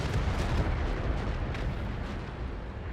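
Artillery fire in a tank video game, a dense continuous low rumbling roar of blasts, loud and steady throughout with no talking.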